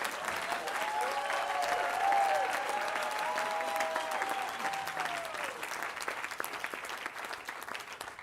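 An audience at a university state-of-the-university address gives steady, moderately loud applause that holds for several seconds, with a few faint voices and whoops rising over the clapping.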